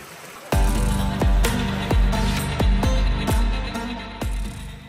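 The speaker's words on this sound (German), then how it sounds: "die nächsten Kilometer wandern wir durch den Fluss" Hikers in thick-soled water shoes wade along a river over a stony bed in a rocky gorge, their steps landing as regular, close splashing thuds about every half second.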